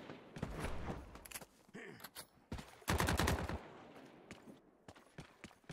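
Gunfire in The Cycle: Frontier rattles in loud, close bursts and rapid volleys, with a dense automatic stretch near the middle and scattered single shots after, while a player's voice is heard among them.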